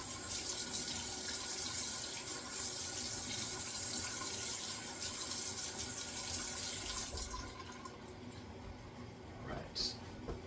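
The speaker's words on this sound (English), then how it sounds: "So I'm just going to give a couple rinses to my head with hot water." Hot tap water runs and splashes steadily over a shaved head for several seconds, loud and close, then the flow stops, leaving quieter drips and faint room noise.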